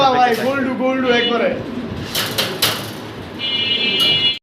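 Large red pigeons coo in a loft, a few soft throaty calls near the start followed by clicks and rustles, with a brief high tone near the end.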